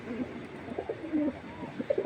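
Low, soft pigeon coos repeat in a loose rhythm, fairly close, over a faint steady hiss with no talking.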